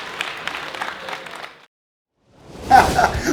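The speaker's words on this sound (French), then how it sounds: "On peut l'applaudir, on peut applaudir Lésia" Brief burst of applause and clapping from a small group, starting after a short silence and fairly close.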